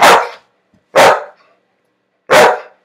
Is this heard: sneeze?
no